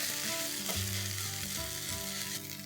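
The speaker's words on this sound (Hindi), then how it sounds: "अदरक लहसुन की पेस्ट को 2-3 मिनट के लिए फ्राई कर लेंगे" Ginger garlic paste fries in a pan with a steady, even sizzle that carries on unbroken throughout, accompanied by a low tonal hum in the background.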